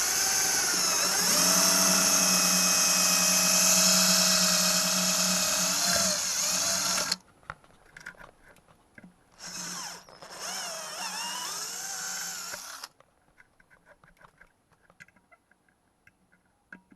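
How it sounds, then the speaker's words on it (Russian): A twist drill bit run in a power drill as a milling cutter, shaping material for an LED colour-music ball: a loud, steady high-pitched whine for about seven seconds, then a shorter second burst, fading to faint ticking. "Далее используем сверло как фрезу."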